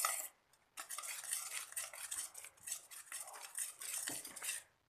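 A spoon scrapes and clinks steadily against a pan while the kalakand milk mixture is stirred, soft, repetitive metal-on-metal strokes at close range with a faint sizzle and no talk.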